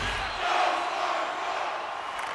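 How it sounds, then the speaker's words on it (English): Hockey arena crowd at an NHL playoff game between the Dallas Stars and an opponent in a tied game, a dense sustained roar of cheering and shouting that fills the space without letup. "You can feel the energy in this crowd."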